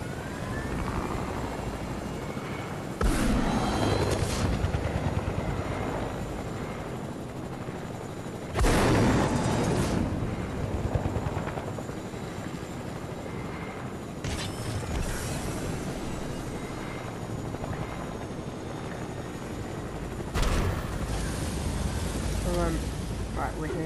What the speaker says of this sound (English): Oh, but we have got a nice chopper though, which we can use to go find him.